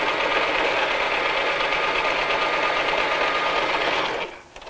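A sewing machine runs steadily, stitching a tote bag in one continuous close, loud whir that tapers off near the end.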